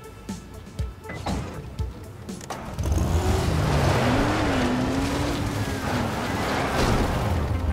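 A car drives in a video game, its engine droning loudly and steadily with shifting pitch as it speeds along, after a few scattered clanks and thumps at the start.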